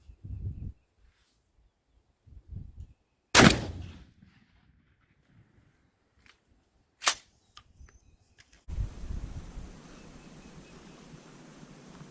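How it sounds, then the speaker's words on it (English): A 20 gauge Remington 870 shotgun fires 3-inch #5 shot shells, giving a loud, sharp blast followed by a second shot a few seconds later, each ringing out over quiet outdoor surroundings before a steady noise rises. "next is going to be 20 gauge 870 with 3-inch 5-shot."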